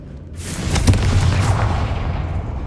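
A Confringo blasting curse in Hogwarts Legacy erupts as one loud, close boom that rolls out into a long, fading rumble, with no talking over it.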